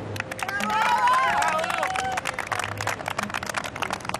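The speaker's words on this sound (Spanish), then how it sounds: "Quiero que reciban con un fuerte aplauso al mago Tomás" An audience at a magic show in Mar del Plata, Argentina, claps and cheers to welcome a magician on stage. The dense, sustained applause comes with excited voices and whoops rising above the crowd.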